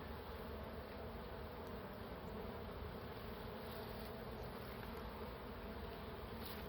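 A soft, continuous buzz of honey bees during a hive inspection hovers in the background, faint and steady, with no talking.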